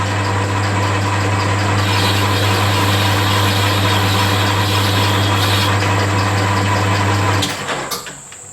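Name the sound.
lathe boring out a machined part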